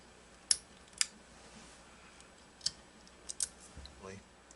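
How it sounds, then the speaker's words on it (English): Radom P-64 9x18 Makarov pistol hammer eased down slowly on a tabletop during spring work: a few sharp, close metallic clicks and small mechanical ticks scattered over several seconds in a quiet room. "Release the hammer slowly."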